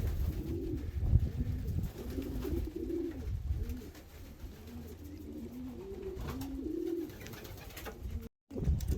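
Pigeons coo in repeated soft, throaty rolling calls, close and continuous over several seconds against low background rumble.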